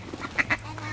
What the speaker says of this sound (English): Here's the mama duck.